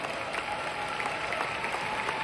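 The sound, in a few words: audience applause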